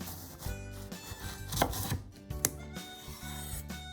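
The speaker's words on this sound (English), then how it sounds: "Slice the eggplant into about 10mm piece." A knife slices an eggplant into roughly 10mm pieces for tempura, making a steady run of close, crisp cuts and board taps with a few heavier thumps, no voices.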